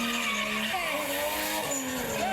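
A rear-wheel drive car drifts through a corner, its rear tires sliding and squealing in a wavering, rising screech over a strained engine note, brief and fairly faint.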